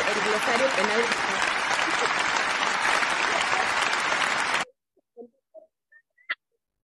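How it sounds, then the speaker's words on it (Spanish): Applause from the audience at a law lecture on human rights and criminal law as a book prize is handed out, dense clapping that stops abruptly, followed by a few faint isolated sounds in near silence. "Entonces, Anita, los aplausos para el segundo libro que se va también por ahí, por favor"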